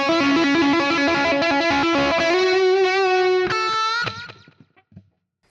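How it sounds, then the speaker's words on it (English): Electric guitar played through a Fractal 1/8-note digital mono delay, with bright sustained distorted notes and chords carrying a quick slapback repeat before fading out near the end, no voices. "which is at an 1/8 note digital mono delay"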